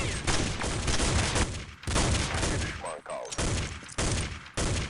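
Rapid bursts of automatic rifle fire from the video game Counter-Strike 1.6, played against bots, crackle loud and dense in several long volleys separated by brief gaps, with faint speech in between.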